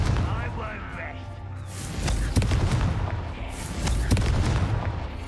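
Confringo blasting spell in Hogwarts Legacy: repeated booming blasts and crackling bursts over a continuous dense roar of battle, loud and close, with a voice speaking among the impacts.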